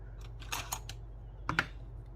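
Scissors snip through material for handmade Christmas gift tags, giving a few quick, close, crisp cuts in two small clusters, with nobody speaking.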